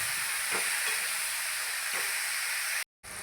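Shredded cabbage with soaked chana dal cooking in a pan, a steady hiss of frying with a couple of soft stirring scrapes, close by, broken by a brief cut near the end.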